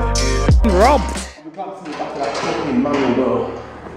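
A stiff storage-unit door drags and scrapes open for a couple of seconds, right after a man's loud, lively voice greeting someone.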